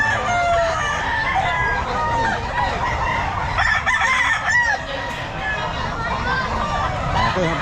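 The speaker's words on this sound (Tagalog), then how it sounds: "Marami siyang manok, mga sir." Many chickens cluck and roosters crow repeatedly nearby, a busy continuous chorus with a few voices talking in the background.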